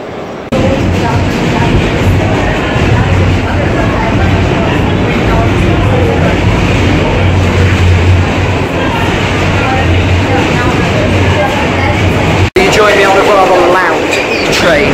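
A train rumbles and rattles steadily through an enclosed New York City transit station, a dense continuous roar with clattering wheels, ending in a sudden cut and shifting noise.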